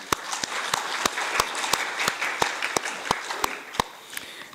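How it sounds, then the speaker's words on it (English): Audience at a ministerial conference on population applauding panelists, steady moderate clapping with a few sharp individual claps standing out, fading slightly at the end. "A round of applause for them again."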